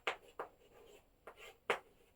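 Chalk or marker strokes on a classroom board during a physics lesson, four short scratchy strokes spaced irregularly with quiet pauses between, close and clear with no talking.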